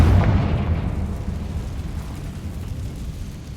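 The Confringo spell explosion in Hogwarts Legacy bursts loud at the start, then decays into a long rumbling tail that fades gradually, with no talking.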